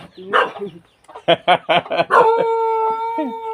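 Fighting cocks at a mixed farm, where a rooster lets out a long, loud crow close by, right after a quick run of sharp dog barks and a brief voice.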